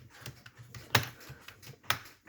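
Computer keyboard keys pressed in a few scattered, uneven taps, with two sharper, louder strikes standing out among softer clicks, close and alone without speech.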